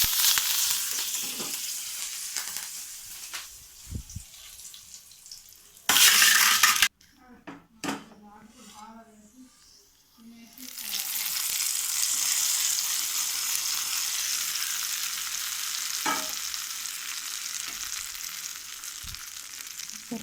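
Curry leaves sizzle and crackle in hot oil while frying for peanut chutney, a loud, steady hiss that cuts out for a few seconds midway, with stirring clinks of a utensil on the pan, then resumes strongly.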